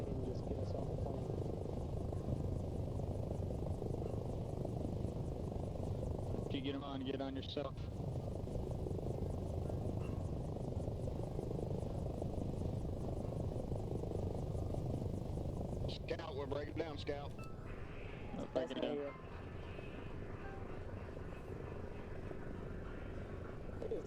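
A military helicopter idles nearby during a field training exercise, its steady rotor and engine drone filling the whole stretch while several people shout over it.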